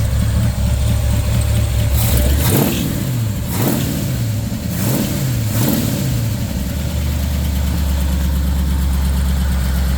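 A 1962 Chevrolet Bel Air's big-block V8 idles loudly and deeply through straight pipes fitted with small backwards mufflers. It gives four sharp throttle blips in a row, then settles back into a rumbling idle, close up with no talk.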